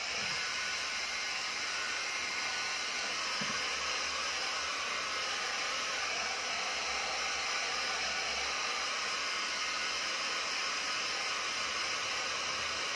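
A hair dryer running steadily indoors to dry a homemade painted guitar, a constant loud airy whir and hiss with no change in pitch, close and alone throughout.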